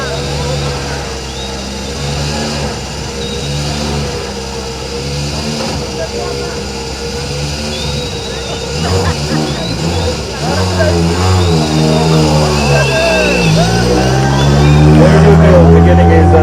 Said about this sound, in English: that's the sound of a proper rally car just about to begin